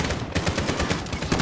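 Rapid automatic gunfire from Call of Duty: Modern Warfare, a steady run of loud, evenly spaced shots that fills the whole moment with no voices.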